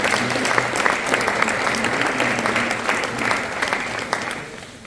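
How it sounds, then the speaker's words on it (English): An audience applauds at a women's basketball coach introduction, with dense, sustained clapping from a crowd filling the room that fades slightly toward the end. "a round of applause for all the incredible"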